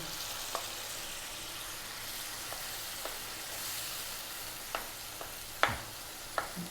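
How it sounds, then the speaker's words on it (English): Brain fries in a pan of curry with a soft, steady sizzle, broken by several faint clicks and taps of a spoon against the pan, all close and quiet with no talking. "we're now going to get the brain. We're going to drop that in."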